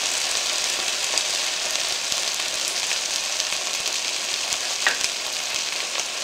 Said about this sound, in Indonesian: Dan kemudian masukkan tempe semua.